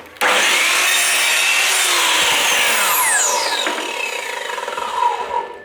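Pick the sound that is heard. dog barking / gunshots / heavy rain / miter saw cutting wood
miter saw cutting wood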